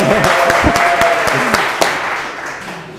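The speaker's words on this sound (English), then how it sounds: "Round of applause." Applause from a live audience at a talk on inclusive design, a dense patter of clapping that holds steady for a few seconds and then gradually thins out.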